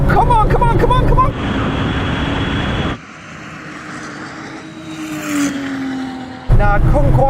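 A Porsche 911 Turbo pulls hard under boost in a drag race. Its loud engine note climbs steadily, breaks at a sudden gear change and then carries on more faintly, with a voice talking excitedly at the start and end.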